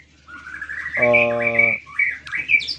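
A white-rumped shama, a forest-caught murai batu, sings a short, close phrase of bright whistles and chirps, with a brief harsher rattling note in the middle and no voices.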